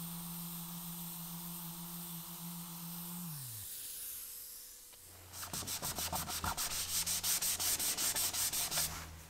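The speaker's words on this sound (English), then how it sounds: "went over the top of it with a sander" Electric sander working across a wooden coffee tabletop: a quieter hiss-and-rub passage first, then a louder, rhythmic rasping scrub with regular pulsing strokes.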